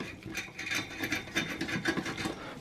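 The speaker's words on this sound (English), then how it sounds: "you have to go ahead and use a Phillips screwdriver to remove the heat sink fan to upgrade the memory" Phillips screwdriver turning screws to free the heat sink fan inside a Lenovo H520S desktop PC, making close, rhythmic scratchy clicks and grinding metal-on-metal rasps in quick succession.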